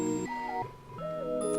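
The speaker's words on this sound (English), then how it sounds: "It'll give it that in and out glitch noise." Music production glitch effect where synth tones drop in and out, with tonal notes stepping and sliding in pitch across short segments. A brief burst of noisy texture comes near the end, and no one speaks.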